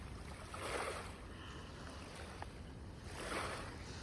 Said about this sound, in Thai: ชมเสียงน้ำทะเลนะจ๊ะ